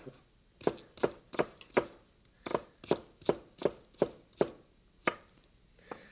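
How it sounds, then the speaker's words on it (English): A knife chops tender salad leaves into strips on a cutting board in a kitchen, about a dozen crisp, evenly spaced cuts in a steady rhythm, close and fairly quiet with no talking. "you flatten it roughly with the flat of your knife, and then that makes it easy to cut into strips"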